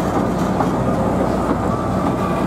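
Ikawa Line train running and crossing an iron bridge, a loud continuous rumble with rhythmic wheel clatter on the rails heard from inside the carriage.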